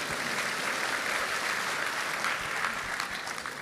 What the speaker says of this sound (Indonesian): tepuk tangan yang kencang.